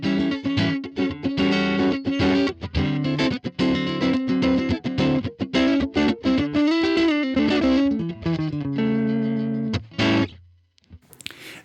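Electric guitar played through a Line 6 Helix Bassman amp model at default settings with reverb off, a steady run of strummed chords and picked notes with slight breakup, loud and alone before ringing out near the end.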